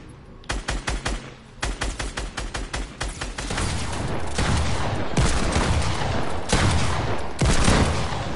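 Gunfire in Fortnite while riding a driftboard, first short clustered bursts of rapid shots, then denser sustained firing over a rushing board roar, loud and close with no talk.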